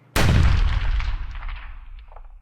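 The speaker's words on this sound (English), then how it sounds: "And then you hear that crack of that first round." A single musket round cracks sharply and loud, its boom rolling out into a long, fading echo that lingers for about two seconds.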